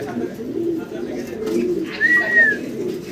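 Low coos of large fancy pigeons murmur steadily up close, with a brief higher bird call rising over them partway through.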